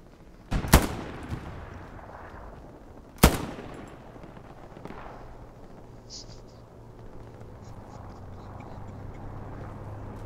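Gunfire in the Hell Let Loose World War II shooter: two sharp, loud shots ring out about two seconds apart, followed by fainter distant cracks over a low battlefield rumble, with a voice speaking in the background.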